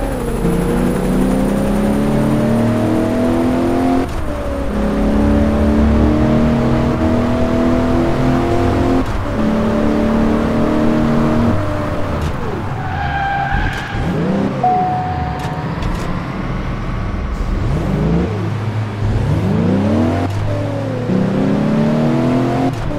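A car drives in the Crash Time 4 video game, its engine droning loudly and steadily as it revs up through repeated gear shifts, with rising and falling pitch sweeps from passing traffic.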